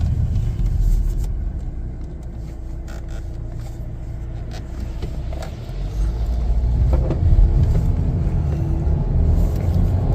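A 2025 Chevrolet Blazer 2LT drives and accelerates at about 50 mph, giving a steady low road rumble and engine drone that swells a bit louder in the second half, with no voices.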